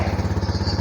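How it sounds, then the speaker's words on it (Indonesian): A motorcycle engine idling during a fuel injection service, steady close thumping pulses in an even fast rhythm. "Setelah kita sambungkan, kita menghidupkan motor ya."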